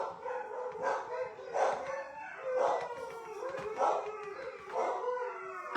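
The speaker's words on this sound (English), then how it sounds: "There goes the dogs." Several dogs howl together in long rising and falling wails, repeating in waves at moderate loudness with no talk.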